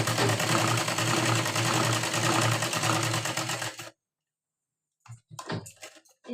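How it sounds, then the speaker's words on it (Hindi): A sewing machine stitching a blouse runs in a steady, fast mechanical chatter for about four seconds, stops into silence, then gives a few short, close bursts of stitching. "यहाँ पे पक्की सिलाई लगानी है"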